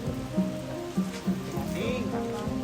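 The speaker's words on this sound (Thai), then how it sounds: "แต่ว่าตอนนี้ฝนตกมั้งเนาะ" Steady rain patter falls throughout, with a few soft tonal bumps and clicks mixed in at moderate loudness.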